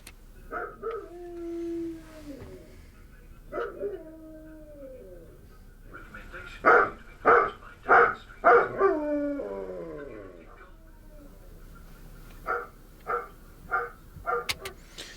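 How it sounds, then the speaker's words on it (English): A dog lets out long wavering howls mixed with a run of loud, evenly spaced barks, then a few shorter yelps, close and clear. "That's a barking and a howling combined."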